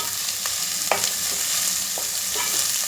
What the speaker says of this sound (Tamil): இப்போ இதை எல்லாம் சேர்ந்து வெங்காயம் பொன்னிறம் வாங்கணும் வரைக்கும் வதக்கணும்.